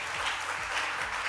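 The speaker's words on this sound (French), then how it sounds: "On va les applaudir." Studio audience of a French television talk show applauding, a steady dense wash of many hands clapping that holds evenly at moderate level for the whole short stretch, with no voices over it.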